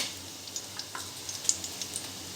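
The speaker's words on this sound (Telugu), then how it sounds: "బిర్యానీ ఆకు వేసి వేపుకోవాలి" Whole spices such as star anise, cinnamon stick, cloves and a bay leaf fry in hot oil for chicken biryani, giving a faint, steady sizzle scattered with small crackles and pops.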